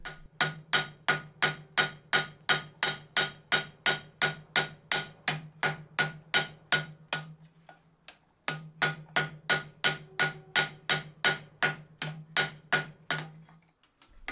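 A hammer strikes twisted Damascus steel while shaping a tanto blade in a fast, even series of ringing blows, close and loud, with one brief pause midway before the pounding resumes.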